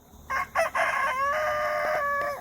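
A rooster crows nearby, a few short clucking notes rising into one long, drawn-out crow that holds steady before fading.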